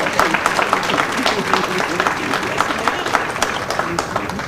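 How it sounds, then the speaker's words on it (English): An audience at a county and university business breakfast and scholarship event applauds two honorees, a lively spread of clapping with a few voices murmuring underneath. "Let's give another round of applause to Shelby Brown and CLEO Powell"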